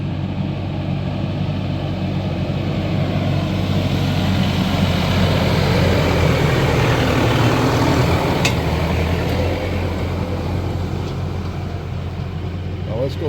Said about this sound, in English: Here comes a tractor with a pack fork.